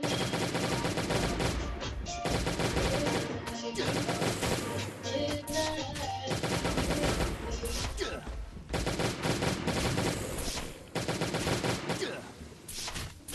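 Automatic turrets fire during a Last Day on Earth game, sending dense rapid volleys of gunfire that rattle almost continuously, loud and close, with short gaps between bursts.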